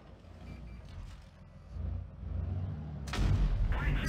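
A tank cannon fires once in WoT Blitz, a sharp, loud blast near the end that follows a low engine rumble and scattered game sounds.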